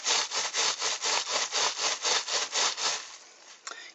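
Wet wool felt for a poppy, soaked in soapy solution, is rolled back and forth on a mat, giving about a dozen steady, close rubbing swishes in an even rhythm before trailing off into quiet.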